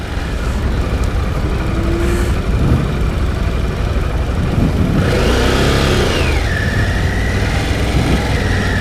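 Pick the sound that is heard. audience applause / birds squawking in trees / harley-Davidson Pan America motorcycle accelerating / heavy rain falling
harley-Davidson Pan America motorcycle accelerating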